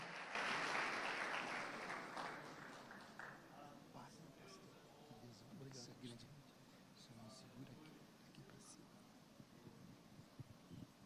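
A church congregation at an OBPC service applauds pastor Osvaldo do Vale, with a burst of clapping that quickly fades under a murmur of voices and a speaker talking.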